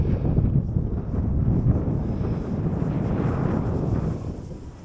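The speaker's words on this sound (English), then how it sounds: "Oh, you can see the wind pushing it." Wind buffets an outdoor microphone on a blustery day with a loud, continuous low rumble that swells and eases slightly, covering everything else.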